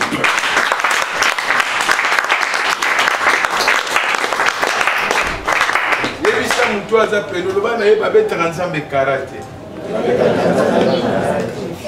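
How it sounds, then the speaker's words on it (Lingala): A church congregation bursts into loud, sustained applause and cheering, with a voice calling out over the clapping midway and a chattering crowd continuing near the end. "Tu peux acclamer pour la parole."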